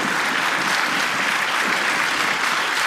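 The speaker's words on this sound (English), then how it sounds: "friends who were clapping, I totally understand why you would want to clap" Steady applause from an audience at a legislative hearing fills the room, loud and even throughout with no voices over it.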